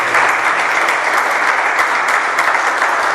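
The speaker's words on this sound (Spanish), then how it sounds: "Da un aplauso a Jesucristo." A congregation at an evangelical church service claps and cheers for Jesus Christ, a dense and loud wash of applause that holds steady throughout with no speech over it.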